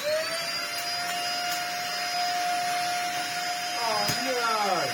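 A Dyson DC50 vacuum cleaner runs with a steady, loud motor whine whose tone wavers and strains near the end as the motor in its head struggles, continuous throughout.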